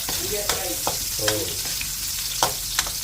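Onions tossed into a hot pan for pork binagoongan, a close, even sizzle punctuated by several sharp spatula clanks against the pan, with faint voices murmuring briefly in the background.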